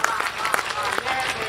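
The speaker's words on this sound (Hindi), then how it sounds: "तालियां जरा भरपूर बजाओ दोस्तों" Audience claps at a Hindi comedy poetry gathering, a brief burst of scattered, uneven clapping close by, with voices mixed in.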